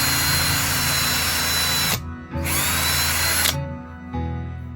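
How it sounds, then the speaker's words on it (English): A power drill bores a pin hole into the back of a 2 cm thick wooden disc, whining loudly in two long steady bursts with a brief stop between, then running on more quietly. "I'm going to drill a hole at the back of the disc for the pin to fit into."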